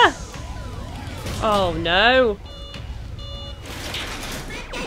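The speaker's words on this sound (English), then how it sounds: "If you touch the lasers, the alarm goes off." An alarm goes off in the video game Danganronpa Another Episode after lasers are touched, wavering electronic siren and beeping tones over game sounds, with a brief excited exclamation from a player.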